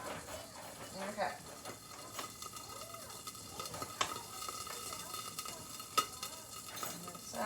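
A Beyond Burger fries in a pan with a soft, steady sizzle and a few small scraping clicks, while a voice talks intermittently over it.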